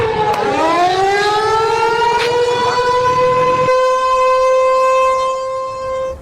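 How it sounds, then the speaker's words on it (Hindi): A civil defense air raid siren wails over Lahore during Pakistan–India attacks in May 2025, a loud, sustained rising tone that settles into a steady howl, heard alone and close for several seconds. "लाहौर में सायरन बजना शुरू हुआ"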